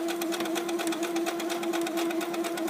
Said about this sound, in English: So let me show you a little bit of the sewing that I'm going to do.